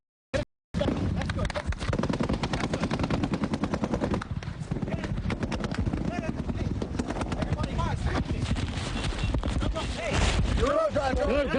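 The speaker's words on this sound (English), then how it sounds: "CNN producer Ian Lee was hit. I've been shot" Gunfire in a combat zone: rapid, loud bursts of automatic weapon fire crackling almost continuously at close range, with people shouting over it.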